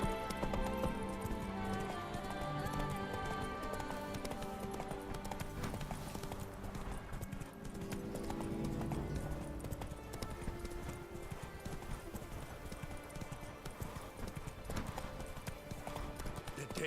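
Horse hooves clip-clopping for the horse Roach in The Witcher 3 game, a steady trotting rhythm running throughout under music and other game sounds.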